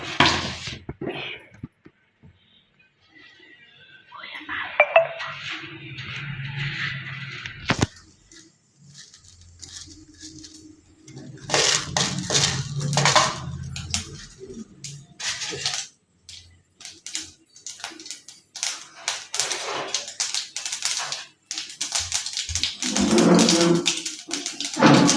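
Mustard seeds spluttering in hot oil, a dense run of sharp crackles and pops that come in bursts, loud and close, with quieter gaps between the bursts.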